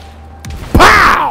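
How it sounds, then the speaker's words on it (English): Grenade blast in the shooter CrossFireX: a soft thump, then a sudden loud, close burst that rings out and slowly fades. "Grenade!"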